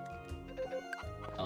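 A chicken in the farming game Friends of Mineral Town gives a brief electronic cluck over soft background game music.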